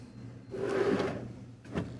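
A soft-close kitchen drawer in a 2023 Newmar Essex 4551 motorhome slides out with a smooth rolling rumble, then eases shut with a soft thud near the end, close and clear in a quiet room.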